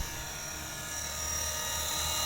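A size 450 radio-controlled UH-1 police helicopter model flying fast, giving a steady, loud rotor and motor whine with a high-pitched tonal buzz that rises slightly in pitch, close by and without talk.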